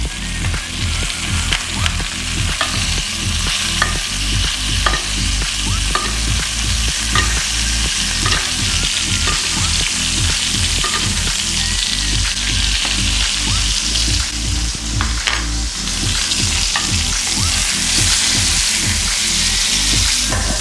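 Bacon-wrapped pork tenderloin sears in a hot pan, a loud continuous sizzle with rapid rhythmic spoon strokes as hot fat is basted over the meat.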